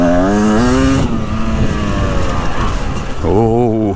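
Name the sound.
Beta 300 Race Edition two-stroke dirt bike engine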